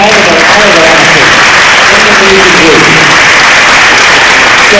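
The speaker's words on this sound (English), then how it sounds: "one more round of applause for Jack and all of our athletes" A crowd at a high school athletes' signing ceremony claps and cheers for the athletes, dense and loud throughout, with voices mixed into the steady applause.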